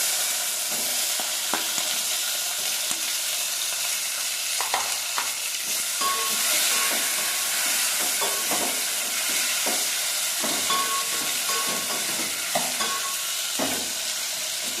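Tomatoes frying in a pan for soraka sambar give a steady close sizzle, with intermittent scraping and stirring clatters scattered through it and no voices.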